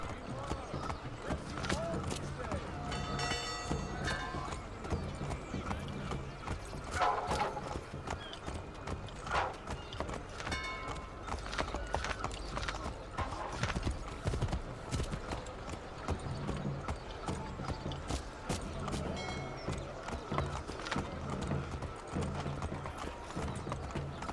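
Steady horse hooves in Assassin's Creed 3 Remastered clip-clop at an easy walking pace over a continuous background bed, with a brief whinny partway through.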